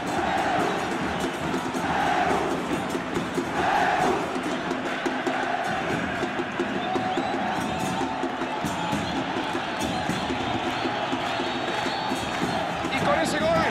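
A virtual stadium crowd in the football game PES 2019 roars and cheers steadily after a goal, a dense wall of noise with rising swells and scattered shouts throughout.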